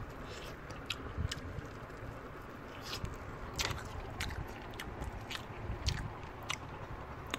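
Wingstop lemon pepper chicken drumstick is chewed up close, with wet, crunchy bites and repeated sharp crackles over a steady chewing noise.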